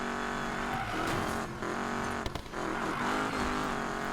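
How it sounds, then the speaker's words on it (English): A Mercury Cougar V8 engine in the racing game Need for Speed Payback roars steadily with a deep rumble, a short tire squeal and a brief dip in revs midway, fairly faint and without voices. "Has a very, very like strong V8 sound to it."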